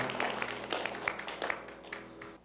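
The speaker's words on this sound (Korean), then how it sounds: "이곳에 불러주신 하나님께 영광의 박수 올려드리겠습니다" A congregation claps together at a Korean church service, a dense, steady patter of many hands with a sustained tone humming underneath, fading slightly toward the end.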